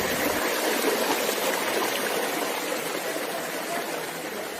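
Goram Ghat waterfall in Rajasthan, running low, gives a steady broadband rush of falling water that fills the whole moment evenly and fairly loud.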